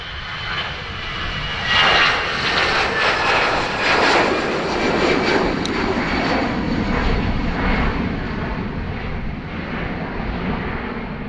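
Fixed-wing airplane engine roaring at Dublin Airport, a steady loud rumble with a broad whooshing wash that swells slightly and holds for several seconds, heard outdoors from a plane spotting position.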